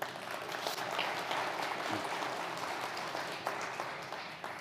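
An audience at a business district meeting gives a round of applause, sustained crowded clapping that holds an even level for several seconds before thinning slightly toward the end.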